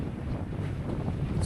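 Wind of 14 knots blows across a racing sailboat on a flat sea during the Vendée Globe, a close, steady low rush buffeting the microphone, with no voices.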